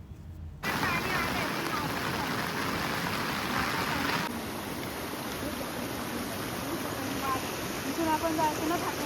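A village river swollen by monsoon rain rushes steadily and close, a dense continuous roar of flowing water with faint voices beneath it.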